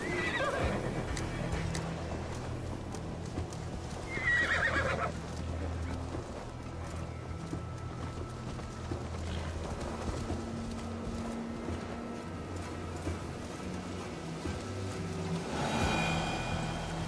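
Horse neighs and whinnies with steady clip-clopping hooves in the Assassin's Creed Valhalla video game, a whinny standing out near the start and more snorts later over a continuous low rumble of movement.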